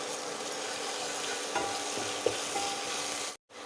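Momo filling frying in a pan, a steady soft sizzle running throughout with a few faint stirring clicks, ending in a brief cut of silence near the close.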